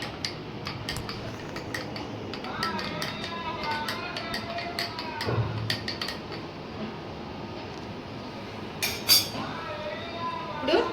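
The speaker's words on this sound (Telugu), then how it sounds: "ఐస్ క్యూబ్స్ వేసుకుందాం అండి" Ice cubes clink and tap against glass as they are dropped into rose syrup watermelon juice, a series of light, close clatters with a few louder knocks over steady room noise.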